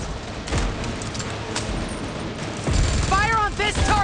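Bursts of gunfire in PUBG Mobile crack and boom through a busy mix, with a heavier volley near the end and a voice speaking over the shooting.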